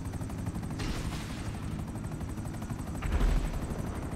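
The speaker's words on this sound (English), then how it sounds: "Oh no, you're in a helicopter." A helicopter in GTA 5 Online thrums with a steady rotor chop and engine roar throughout, swelling briefly louder near the end, with no voices.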